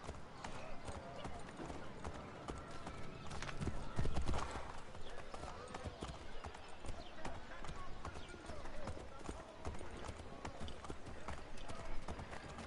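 Steady clip-clop of horse hooves trotting through Assassin's Creed III Remastered, with voices and background ambience layered over the rhythmic hoofbeats.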